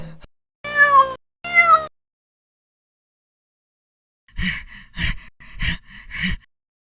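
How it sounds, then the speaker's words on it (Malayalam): A cartoon cat meows twice in quick succession, clear and close. After a pause comes a rapid series of breathy gasps. "ആ ചാക്കിൽ പൂച്ചയായിരുന്നു"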